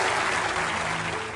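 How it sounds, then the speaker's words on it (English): A studio audience applauds after a game show round, the clapping dense and steady throughout, fairly loud and close, with no talk over it. "Give them a round of applause."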